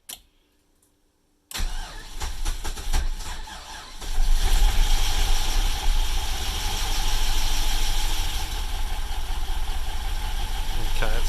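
A rebuilt LS1 V8 cranks and catches, then settles into a loud, steady, close idle that grows fuller after a few seconds, with a voice heard faintly near the start.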